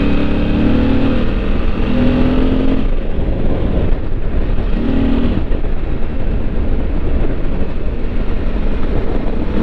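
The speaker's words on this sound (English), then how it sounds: "I prefer the V-twin engine on the V-Strom" A Suzuki V-Strom's V-twin engine drones steadily while riding on winding country roads, loud and close with wind rush and brief shifts in engine pitch.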